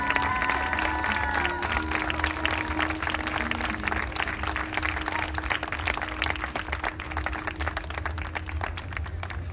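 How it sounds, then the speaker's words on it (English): Sustained applause from an audience at a live pageant honoring contestants and runners-up, a dense wash of clapping with some crowd noise and faint music underneath, steady and continuous throughout. "a big round of applause for all of our contestants and runners-up tonight"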